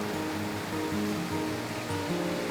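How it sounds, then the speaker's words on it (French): Small waterfalls and rushing water in Maligne Canyon, Alberta, a steady, dense, close roar of churning water with no talking. "Avec les petites cascades."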